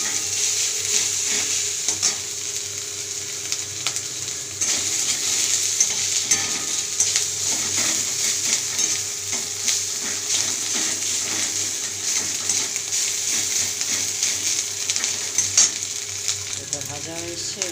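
Garlic with ginger paste fries in a pan for a kochu shak dish, giving a continuous close sizzle with occasional stirring scrapes throughout, no voices over it.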